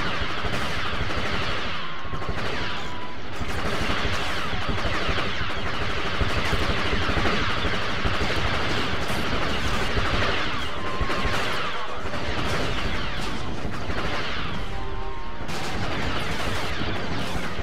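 A rotary blaster cannon in Star Wars Battlefront fires continuously, with dense rapid bursts of blaster shots over loud battle noise and no talk.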